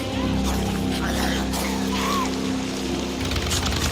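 Motorbike ridden in a zombie video game, a continuous loud engine drone with shifting revving tones over a low rumble, with faint speech alongside.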